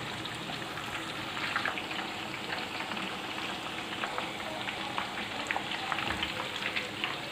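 Whole chicken roasting in a little oil in a pot on the stove, a continuous soft sizzle and crackle like light rain, close and steady with no voices.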